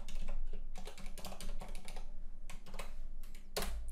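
A password being typed on a computer keyboard: a rapid, uneven run of close, crisp key clicks and taps in short bursts, alone and clearly heard throughout.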